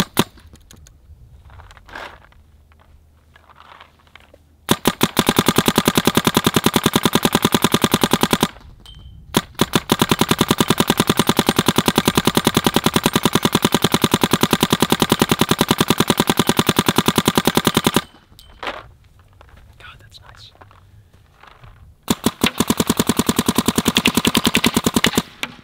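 A Planet Eclipse Geo R5 paintball marker fires in three long, rapid bursts of shots, loud and close, separated by short quiet pauses.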